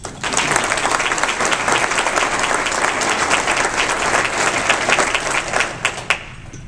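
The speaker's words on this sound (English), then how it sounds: "So give yourselves a big hand of applause" Loud, sustained applause from a crowd at a 2010 community campaign kick-off in Laramie County, a thick wash of many hands clapping at once with a few sharper claps near the end as it fades.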